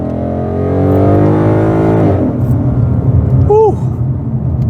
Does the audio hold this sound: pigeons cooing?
no